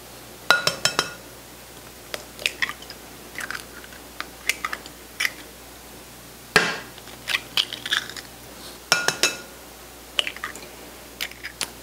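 Six eggs crack one after another against a glass bowl holding vanilla, giving sharp clinks and crunchy shell snaps spaced across a quiet kitchen.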